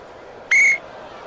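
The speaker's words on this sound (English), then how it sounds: "And a whistle. We have a foul against Brown." Referee's whistle at a 1975-76 NBA basketball game, Philadelphia 76ers at Atlanta, a single short, shrill blast standing out over faint arena background.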